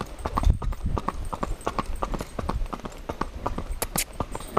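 Hooves of a ridden horse clip-clop in a brisk, uneven trotting rhythm on a hard road, close and steady throughout.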